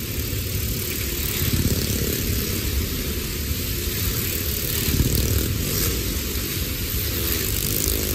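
Car and motorbike engines roar together inside a Well of Death stunt arena at a fair in Jashpur, a continuous loud, droning hum with gentle surges as the vehicles circle the wooden wall.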